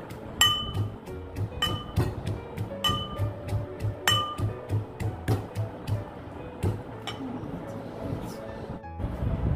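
Sharp clinking strikes of a pestle or stone crushing ingredients for tok mur muri, a tangy puffed-rice snack, ringing out in an irregular series at close range over low background rumble.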